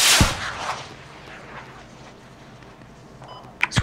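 Artillery firing in the military video game Squad: a heavy, booming launch at the start fading into a long rumbling echo, then a sharp report near the end.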